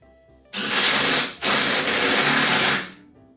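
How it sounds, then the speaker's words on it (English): A power driver drives screws into a table saw stand in two loud whirring bursts, each about a second long, separated by a short pause. The sound is close and harsh, with no talk. "I'm just gonna go ahead and just fit the screws in."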